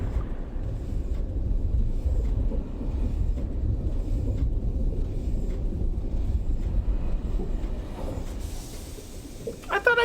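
Steady low rumbling rail ride on a tram in the puzzle adventure game Riven, a continuous rolling drone with faint periodic clicks, ending in a brief metallic squeal as it slows.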